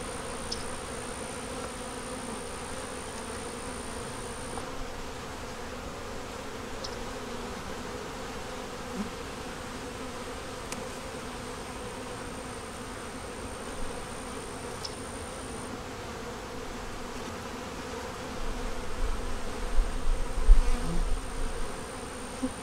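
Honey bees swarm around an opened hive in a constant close hum, with occasional individual bees zipping past, and a low rumble of handling noise swelling near the end; no one talks.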